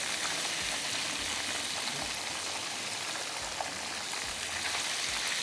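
Chicken frying in hot oil, a dense, even bubbling hiss like steady rain, faint and continuous with no voices.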